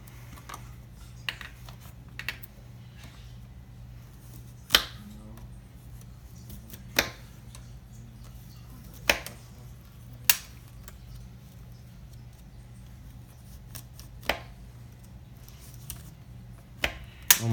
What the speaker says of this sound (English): that's why I'm cutting it with this knife